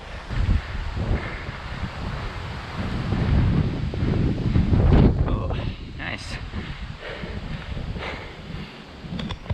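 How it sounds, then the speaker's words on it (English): Strong gusty wind buffets the microphone on a mountain running trail near Telluride, Colorado, a continuous loud rumbling roar that swells and eases throughout with no clear talk. "Pretty breezy day, so I don't know how the volume will be."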